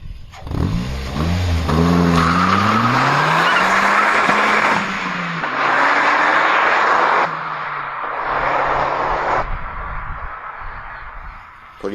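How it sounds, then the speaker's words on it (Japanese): A car fitted with an aftermarket inner-silencer muffler, road-legal for inspection, accelerates hard at full throttle, its engine note climbing through several gears with loud, close revving and tire squeal, while birds chirp in the background. "それでは全開加速のサウンドもどうぞ。"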